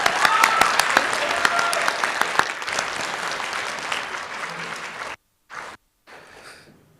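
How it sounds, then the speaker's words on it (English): An audience at a physical sciences student presentation day applauds for a presenter, a loud burst of many hands that gradually thins, cuts out abruptly, then returns briefly in quieter fragments. "let's give a round of applause to Peyton"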